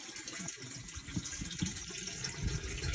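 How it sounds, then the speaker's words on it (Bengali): Water falling and splashing indoors, a continuous close gushing and trickling with uneven surges, fairly quiet and with no talk. "পানিটা দেখো বন্ধুরা, পানি পড়ছে"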